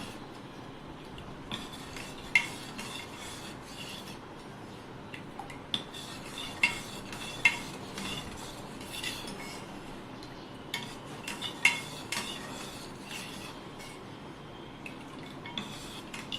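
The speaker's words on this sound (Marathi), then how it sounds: "आता आपण छान मिक्स करून घेऊया" A pot of ragi ambil, a finger-millet drink, is stirred with fresh homemade buttermilk: a spoon scrapes and clinks against the pot in soft, uneven taps over a quiet liquid swirl, with no voices.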